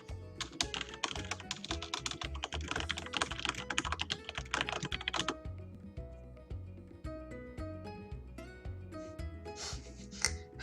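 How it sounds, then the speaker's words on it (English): Rapid typing on a computer keyboard, dense and close for about five seconds, then slower scattered keystrokes, with a tonal backdrop underneath. "I should type that."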